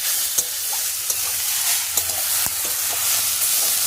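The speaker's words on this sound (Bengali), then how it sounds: "এরপরে শাকটা আমি ভাজবো।" Kalmi (water spinach) greens fry in a pan with a steady, close hiss of sizzling oil, broken by occasional faint pops and stirring clicks, and no talking.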